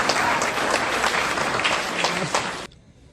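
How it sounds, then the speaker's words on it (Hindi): Audience clapping at the annual general meeting of the Mathura refinery employees' salaried cooperative credit society, a loud, steady wash of applause that cuts off abruptly near the end, leaving faint room noise. "इस पर तुमने ताली क्यों नहीं बजाई"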